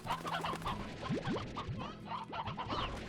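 Stony hens in the video game Slime Rancher cluck in quick bursts, several birds chattering close together with short rising squawks over a low, steady ambience.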